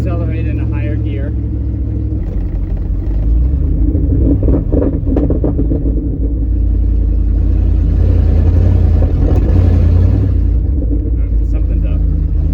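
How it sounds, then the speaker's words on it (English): A 1993 Ford F-150 pickup with a swapped engine accelerates in a higher gear, a loud, close, low rumbling drone that swells steadily, heard from inside the cab while someone talks over it. "I can even accelerate in a higher gear."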